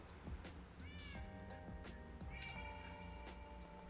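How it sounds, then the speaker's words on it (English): Several cats meow in the Minecraft modpack GreedyCraft, a few repeated rising and falling mews over a quiet game backdrop with soft ticking clicks and scattered taps. "That's a cat."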